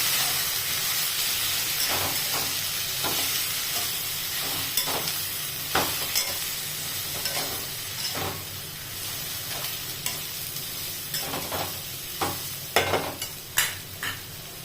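Vegetables with turmeric and coriander powder fry in a pan with a dense, hissing sizzle, punctuated by repeated spatula scrapes and taps that quicken toward the end, close up and fairly loud, with no voices.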